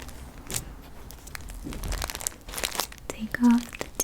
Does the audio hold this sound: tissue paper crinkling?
yes